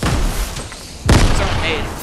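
Fortnite gunfire in a PC lobby match: a dense burst of shots and booming impacts, loudest after the first second, with a player's voice talking over it.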